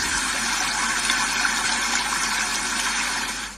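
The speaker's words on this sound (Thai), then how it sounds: "มันน่าจะเป็นเปิดน้ำทิ้งไว้ ลืมปิดก๊อกน้ำ" Steady, full rush of water pouring continuously as if from an open tap, fairly close, easing off slightly at the very end.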